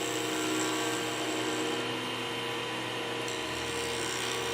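A wood lathe spins at 3,900 RPM as a tool cuts a cholla and resin pen blank. It makes a steady, loud whirring whine with a constant hum and no talking.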